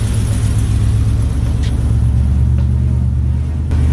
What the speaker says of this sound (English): he's moving the car